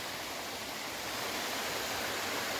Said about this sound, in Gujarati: અહીંયા પાણીનું ઝરણું તમને જોવા મળશે